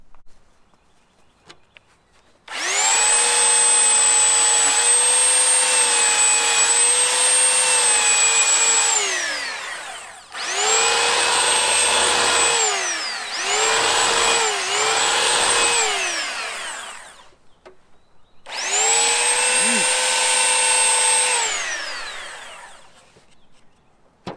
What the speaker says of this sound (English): I just put six of them together, clamped them, and then just belt sand them